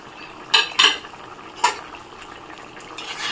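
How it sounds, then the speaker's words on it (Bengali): A spoon clinks and scrapes against a pot as fried prawns are stirred into a simmering mankochu (giant taro) curry, a few sharp knocks over a low bubbling background. "ভালো করে নেড়েচেড়ে আমি মানকচু তরকারির মধ্যে মিশিয়ে নিচ্ছি চিংড়ি মাছগুলো"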